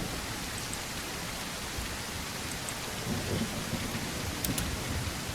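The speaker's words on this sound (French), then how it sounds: "Il pleut des cordes et la nuit tombe." Heavy rain in a horror video game pours steadily at nightfall in a dense, even hiss, with low thunder-like rumbling in the background and no voices.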